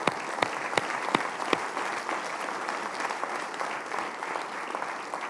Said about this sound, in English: let's give a quick round of applause for all these people.